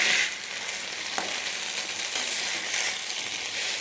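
Vallarai leaves sautéing in a pan, a steady, broad frying sizzle with a few soft stirring taps, close and continuous without voices.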